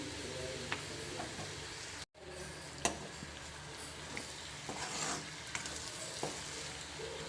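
Chili masala fries in oil for a cabbage curry, giving a steady, fairly quiet sizzle with faint ticks and pops and a momentary break in sound.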